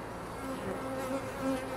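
Honeybees buzzing at an open hive, a dense, continuous hum of many insects close by with slight swells in intensity.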